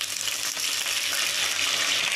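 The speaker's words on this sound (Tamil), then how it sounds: "கடுகு நல்லா வெடிச்சிருச்சு கருவேப்பிலை கொஞ்சம் போட்டுக்கலாம்." Mustard seeds and curry leaves frying in hot oil, a steady close hiss and crackle of sizzling throughout, with no talk.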